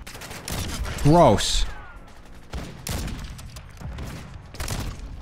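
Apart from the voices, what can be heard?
gun firing in a video game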